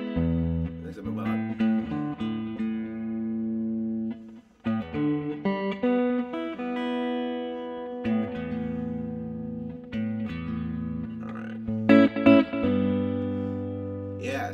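Clean electric guitar played through a Mogami cable, a run of chords and single notes, close and moderately loud, with brief pauses between phrases.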